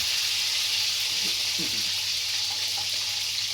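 Green chillies dropped into a hot pan for a mutton curry, sizzling steadily with a soft hissing crackle, with a few brief clinks and stirring sounds partway through.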